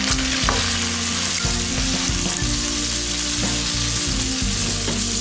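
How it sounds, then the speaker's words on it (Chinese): King oyster mushrooms are stir-fried with oyster sauce in a wok, giving a loud, continuous close-up sizzle. A spatula scrapes and knocks against the wok throughout, and no one speaks. "放点蚝油翻炒一下"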